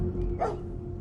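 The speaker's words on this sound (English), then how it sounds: "the sound of the barks echoing off the walls" A single short dog bark, used as a sound effect in a horror story narration, sounds once over a low droning background, close and fairly loud.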